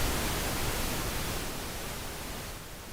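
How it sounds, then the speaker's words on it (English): Steady pink noise from the built-in signal generator of a Midas M32 digital mixer, a continuous broadband hiss that holds an even, loud level throughout and fades slightly near the end. "So that's for the pink noise, and you can control the level of the pink noise."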